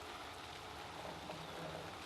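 Steady rain pours outdoors at a building site where PVC exterior trim is being installed, a dense, even hiss of drops on surfaces that stays constant throughout without any voice.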